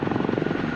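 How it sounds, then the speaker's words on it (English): Loud, close rotor throb of a Chinook helicopter landing, a rapid pulsing beat over a heavy, continuous engine roar in a brief burst. "Jockey lands the Chinook as close to the casualties as possible"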